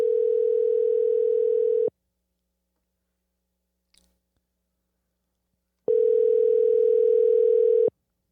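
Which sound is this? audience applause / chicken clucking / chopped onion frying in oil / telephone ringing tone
telephone ringing tone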